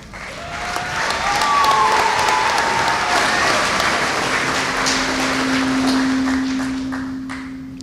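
Sustained crowd applause at a college commencement diploma ceremony, loud and continuous, rising quickly and tapering near the end, with a faint steady tone and a brief voice beneath the clapping.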